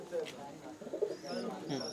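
Racing pigeons in a loft give soft, low coos in short repeated phrases, close by, over a faint hum of background noise.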